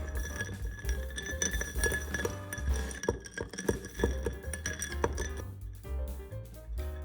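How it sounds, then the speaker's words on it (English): A spoon stirs a White Russian cocktail in a glass, producing quiet repeated clinks and chimes against the glass over a low background hum. "make like Vladimir Putin and stir that shit up"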